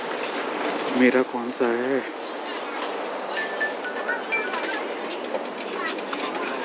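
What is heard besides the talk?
inside a moving train from Beijing to Xi'an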